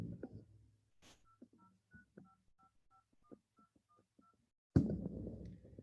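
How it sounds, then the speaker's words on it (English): A phone number being dialed as a rapid series of about a dozen short, evenly spaced DTMF touch tones, each a clean two-note beep, sounding alone and fairly close before a burst of noise at the end. "And those are touch tones"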